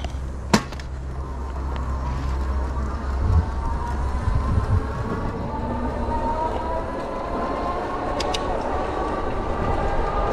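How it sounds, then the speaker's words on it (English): A Lectric XP 3.0 e-bike motor accelerating from a standstill toward 20 mph in pedal-assist level 3, a rising whine over steady road and wind rumble, with a couple of sharp clicks near the start. "Motor did a decent job giving you some good acceleration to get going."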